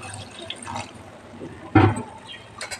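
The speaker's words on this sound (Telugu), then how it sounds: "కొంచెం వాటర్ వేస్తున్నాను." A small amount of water is poured into a pan of capsicum potato curry, giving a brief splash and trickle among quieter kitchen clatter and faint background noise.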